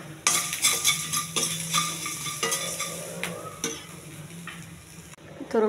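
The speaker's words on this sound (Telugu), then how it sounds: "ఇవన్నీ వేగించాలి. కొంచెం ఉప్పు, కొద్దిగా జీలకర్ర," Mustard seeds, cumin and salt fry in a pan for a mango brown rice dish, with bright crackling sizzle, stirring scrapes and utensil clinks against the pan throughout, close and fairly loud, no talk.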